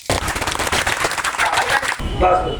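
Students at a school morning assembly give a loud, close round of applause, dense rapid clapping for about two seconds that cuts off abruptly, followed by a voice.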